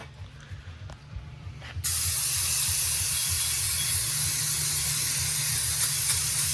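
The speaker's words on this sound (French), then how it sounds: "Là, notre ami brake cleaner rentre en jeu." Brake cleaner blasts from an aerosol can onto the oil pan of a 1999 Harley-Davidson FXDX Dyna, a loud, steady, close hiss that starts abruptly and runs unbroken over low workshop noise.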